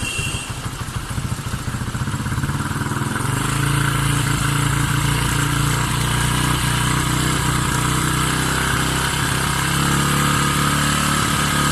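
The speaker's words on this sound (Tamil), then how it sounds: "பிறகு பைக்கை ஸ்டார்ட் பண்ணி இந்த ஸ்க்ரூவை திருப்ப பார்த்தீங்கன்னா ஐடில் அப்பாகிறது உங்களால் அவதானிக்க முடியும்" A Bajaj Pulsar motorcycle engine idling while its carburettor screw is adjusted, a loud, steady, close putter with a rattling clatter that firms up partway through, continuous and with no talk.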